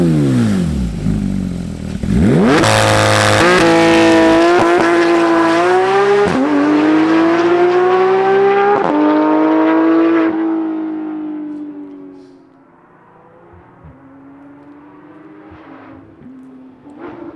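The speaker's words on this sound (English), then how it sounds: "We have a custom exhaust. We have a naturally aspirated flat six. Let's fire this thing up and hear its roar." A 2015 Porsche 911 GT3 with a naturally aspirated flat-six and custom exhaust fires up with a loud bark, then revs hard in rising and falling howls before dropping to a quieter, burbling idle.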